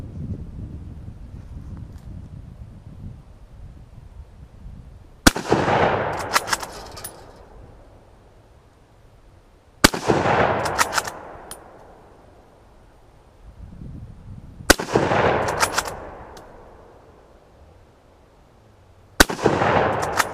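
A rifle fires four loud, sharp shots spaced about five seconds apart, each followed by a long echoing decay, with wind noise in the quiet gaps between them.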